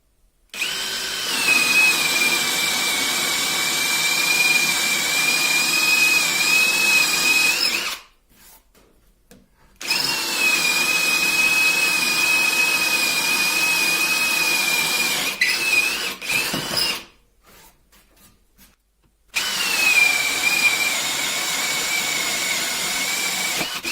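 DeWalt power drill boring into wood with a 20 mm Forstner bit, producing a loud, close, steady high whine under load. It comes in three long runs separated by short pauses, with brief dips in between and no talking.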